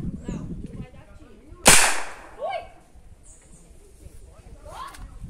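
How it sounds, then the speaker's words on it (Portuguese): A single sharp crack from a modified 5.5mm air rifle firing .22LR hollow point ammunition, loud and abrupt with a short decay, surrounded by quieter outdoor background and faint voices. "Primeiro disparo efetuado"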